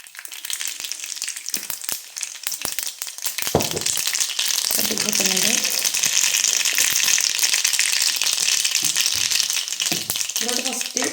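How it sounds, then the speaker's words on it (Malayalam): Sunflower oil goes into a hot pan while making beetroot pickle, rising into a steady, loud sizzle with occasional clatters. A voice speaks intermittently over it. "സൺഫ്ലവർ ഓയിൽ ഒഴിച്ചു"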